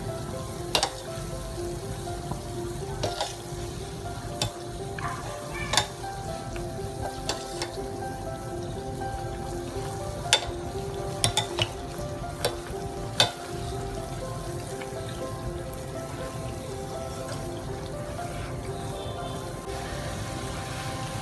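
Kofta dumplings deep-frying in oil give a steady, dense sizzle and crackle that runs throughout, with occasional sharper pops and light clinks of a utensil.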